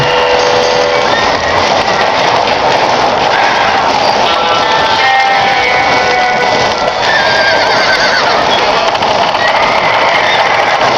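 Horse in a video game neighing loudly and repeatedly over steady clip-clopping hooves, with a dense, constant game soundscape throughout.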